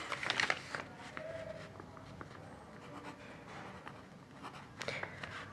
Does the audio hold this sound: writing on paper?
yes